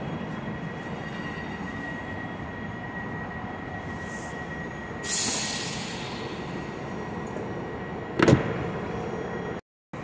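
A passenger train stands and rolls at Wrocław Główny station in Poland under a steady rumble of rail traffic, with a brief rise of noise and a short sharp squeal or clank near the end.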